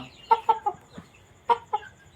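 A young rooster about three months old clucks in short bursts, three quick calls then a pause and two more, fairly close with a faint background hum.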